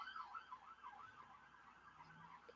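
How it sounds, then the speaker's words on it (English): A distant wailing siren rises and falls continuously, faint and muffled beneath a low background hum. "Excuse the sirens in the background."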